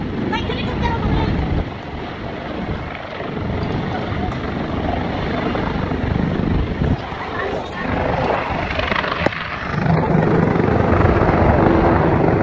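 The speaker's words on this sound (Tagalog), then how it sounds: "May helicopter ako ngayon." A helicopter flies at an airport, its steady rotor roar loud and continuous throughout with wind buffeting the microphone and people talking over it.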